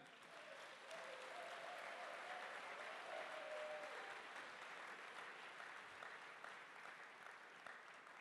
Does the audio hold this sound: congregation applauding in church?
yes